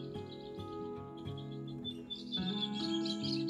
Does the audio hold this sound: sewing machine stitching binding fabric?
no